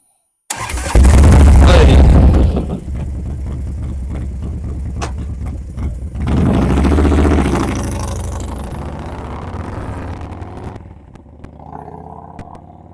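A Harley-Davidson motorcycle engine cranks and fires, then rumbles loud and close with a deep low throb, swelling in a second rev surge before settling toward idle; voices briefly murmur near the end.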